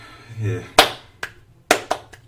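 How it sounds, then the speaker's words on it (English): A golf clap: a brief phrase of speech, then a handful of sparse, light, polite handclaps, close and dry, spaced irregularly. "get a little golf clap"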